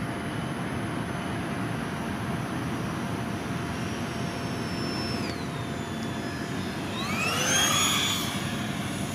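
A Freewing YAK-130 6S RC model jet flies on its maiden flight, a steady whooshing whine with a rising and falling Doppler sweep as it passes, no talk.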